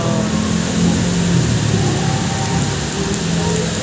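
Steady, heavy rain pours down in a dense broadband hiss, with a low rumble from a Honda Click 125 scooter engine underneath throughout.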